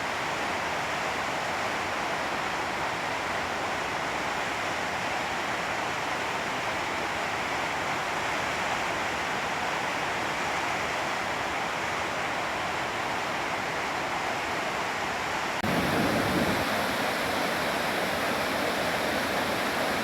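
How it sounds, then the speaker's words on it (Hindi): The Saraswati river rushes below Bhim Pul in Uttarakhand, a loud, steady roar of turbulent water that fills the whole stretch without pause. "भीमपुल से नीचे से देखिए सरस्वती नदी निकल रही है।"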